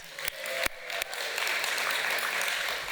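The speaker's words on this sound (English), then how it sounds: "would you give me an applause?" Audience applause at an architecture conference session on healthy communities, starting with a few sharp isolated claps and then swelling into a sustained, even patter of many hands.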